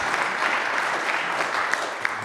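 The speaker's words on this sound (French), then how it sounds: "on peut les applaudir à nouveau, les remercier" Steady audience applause fills a university event hall, a dense wash of many hands clapping at moderate, even loudness with a few sharper individual claps standing out, no speech over it.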